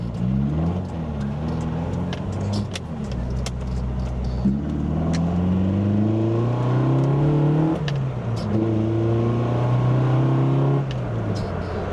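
A modified, enlarged A-series engine revs repeatedly, its pitch rising and falling with quick throttle blips over a close, gruff running note.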